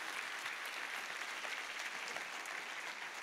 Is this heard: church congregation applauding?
yes